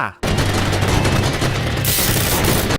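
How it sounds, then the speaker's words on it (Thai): Rapid gunfire in a Roblox Skibidi Toilet video game rattles out as a dense, loud, unbroken volley of shots lasting nearly three seconds, close and harsh with no pauses. "ลูกกระสุนกันรัว"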